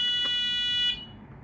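A burglar alarm control panel beeps steadily with a high, piercing electronic tone at close range, holding for about a second before cutting off into quiet room hiss.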